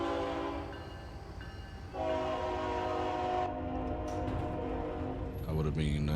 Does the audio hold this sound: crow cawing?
no